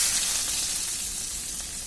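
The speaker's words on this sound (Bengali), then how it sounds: "পেঁয়াজ কুচিগুলো দিয়ে দিব এর মধ্যে।" Steady, bright sizzling of chopped onions frying in hot oil, close and continuous throughout.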